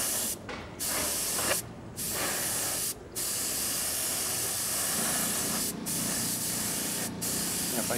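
A steady, loud hiss of spray paint applies a filler primer coat to a steel I-beam, running nearly continuously up close with a few short pauses between passes.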